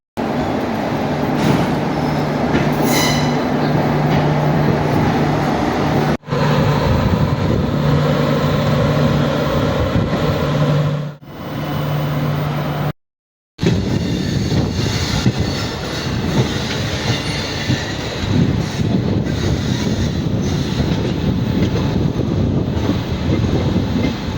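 Karaikal–Thanjavur passenger train pulling out of the station: a loud, steady rumble of rolling wagons with a long low engine drone, brief metallic squeals and rattling, broken by a short dropout partway through.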